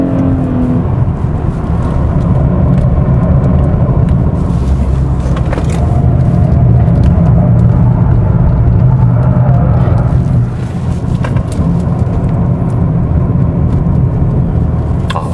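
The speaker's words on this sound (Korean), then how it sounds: "들리는 바람 소리가 있네요" Steady rushing wind noise at the side window inside a moving 2021 Hyundai Sonata N Line on the Inje race circuit, a constant broad hiss over low road rumble with no talking.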